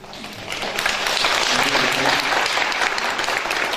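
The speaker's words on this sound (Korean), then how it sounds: "박수는 하나님께 드리는 박수로 전하겠습니다." A congregation at a Korean church revival meeting bursts into applause, the clapping building quickly after a quiet start and then holding a strong, steady roar.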